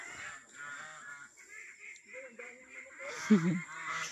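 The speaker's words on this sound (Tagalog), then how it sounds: "May gansa." A goose honks on a rural farm lot, a few short nasal calls rising near the end over quiet outdoor ambience and faint distant bird sounds.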